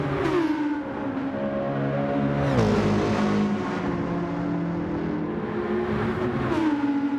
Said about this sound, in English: Down into first gear for the Porsche